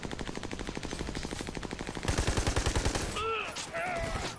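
Rapid automatic gunfire from the video game Army of Two, a steady stream of shots that grows heavier and louder partway through, followed by a few whooshing electronic game effects.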